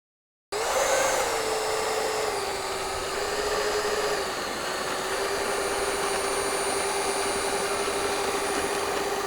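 An XFly F-18 Hornet RC jet with twin 40mm electric ducted fans flies past, a steady high-pitched whooshing whine that starts abruptly and holds, dipping slightly in pitch as it passes, with no talking.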